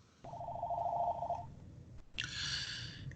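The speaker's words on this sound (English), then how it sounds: "sorry about the phone call" A telephone bell rings in two bursts, a steady trilling tone followed by a brighter, higher ring after a short gap, over a low background hum indoors.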